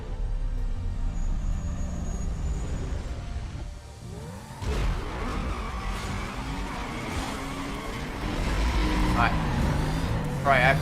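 A McLaren SL driving in Need for Speed Most Wanted, its engine droning steadily with whooshing passes and shifting pitch, someone talking over the car sound throughout.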